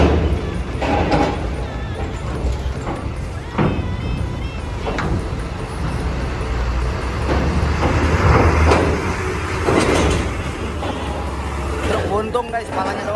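A bobtail truck tractor running without its trailer rumbles past on an Indonesian road, heavy engine noise swelling and fading with air-brake hisses and other traffic, while a voice talks over it.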